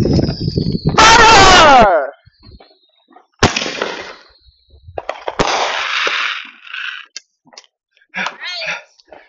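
Family fireworks going off outdoors: several loud whooshing, crackling bursts with whistling tones, separated by short gaps, with people talking between launches.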